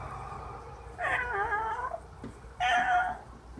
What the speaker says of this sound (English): Do the little vibrato meow meow.